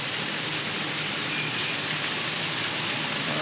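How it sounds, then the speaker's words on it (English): Heavy rain pours steadily at a waterfall in Queensland, a dense, continuous hiss of water that stays loud and unbroken from start to finish. "It's a shame it's pouring with rain."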